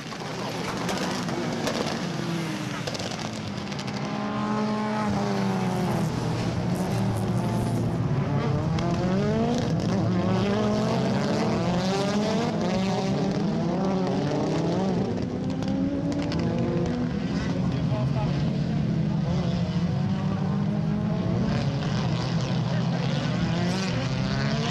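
Several race cars roar off the line at the start of a Maxi series 3 circuit race at Dolna Mitropolia, engines rising and sweeping in overlapping pitch curves, loud and continuous, with a commentator talking over the din.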